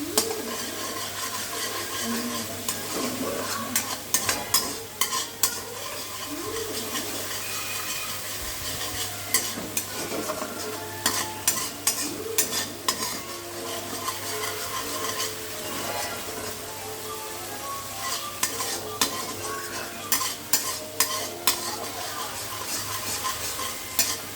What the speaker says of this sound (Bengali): কাশ্মীরি লাল লঙ্কার গুঁড়ো দিয়ে নাড়তে থাকবো যতক্ষণ না তেলটা ছাড়ছে